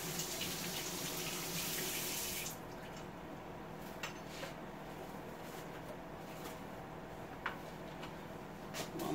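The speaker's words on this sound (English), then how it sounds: "So on a little spoon, we rinse this off." Running tap water rinsing a small spoon, a strong steady stream for about two and a half seconds, then the flow cuts off, leaving faint drips and quiet clinks.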